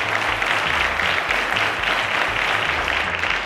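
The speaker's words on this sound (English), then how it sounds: "Round of applause to our contestants." Studio audience applauding contestants on a school quiz show, a loud, dense, continuous burst of clapping from a crowd, with a low rhythmic music bed pulsing underneath.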